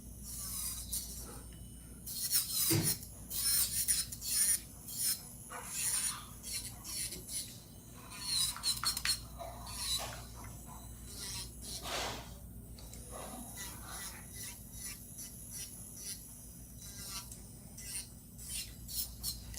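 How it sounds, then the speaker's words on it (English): An electric nail drill smoothing down a fingernail tip buzzes in short on-and-off passes, a thin high whine with scratchy grinding against a steady low motor hum. "I'm gonna drill and smooth everything out a little bit."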